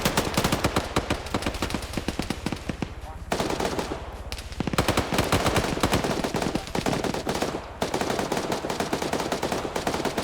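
Rapid automatic gunfire crackles through an OFCRA military video game match, loud bursts of machine-gun and rifle shots in dense rattling volleys broken by brief pauses, with faint voices underneath.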